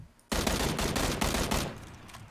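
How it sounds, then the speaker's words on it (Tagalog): A sudden burst of rapid gunfire in PlayerUnknown's Battlegrounds, several shots in quick succession lasting over a second, then it stops abruptly. "Baril pala yun."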